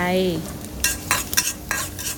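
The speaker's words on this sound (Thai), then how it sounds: "ผัดกระเทียมให้มีกลิ่นหอม" Minced garlic stir-fried in hot oil in a pan while cooking Thai beef with onion, heard as a few loud scraping stirs over a steady sizzle, with no talk.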